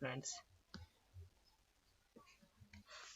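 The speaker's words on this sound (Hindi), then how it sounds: "फ्रेंड्स हमें एबे सबमिट रे क्लिक कर देबा" A computer mouse clicks the submit button on an online exam application form, giving a few sharp, quiet clicks spaced apart in a hushed room.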